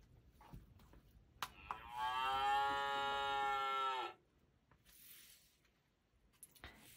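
A single long cow moo rings out clearly for about two seconds, with a few soft clicks before and after in an otherwise quiet space.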